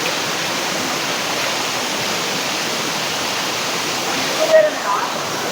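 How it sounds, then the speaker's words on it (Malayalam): Waterfall in Araku valley roaring as a steady, loud, broadband rush heard up close, with a brief faint knock near the end. "നമ്മൾ വാട്ടർഫാൾസിൻ്റെ അടുത്ത് വരെ എത്തിയിരിക്കുവാണ്"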